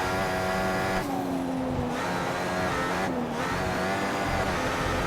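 An F1 race car in the F1 2014 video game howls at steady high revs while oversteering at the Australian Grand Prix. Its engine pitch dips and climbs in two brief lifts with a tire-scrub edge. The sound is loud and continuous, with no talk.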